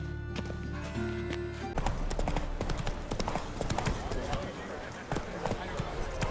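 Hoofbeats from the horse Roach in The Witcher 3 start as a steady engine-like hum and then break into a fast, rhythmic galloping clip-clop, with a voice talking over them.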